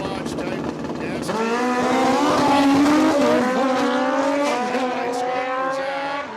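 Drag racing cars at Cordova Dragway tear down the quarter-mile strip, a loud roaring engine note climbing steadily in pitch as they accelerate, with a track announcer talking over the noise.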